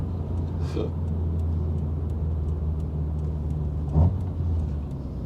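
A Toyota 4A-G engine rumbles steadily with a low drone while the car is driven, a brief louder thump near the end, and some voices faintly in the background.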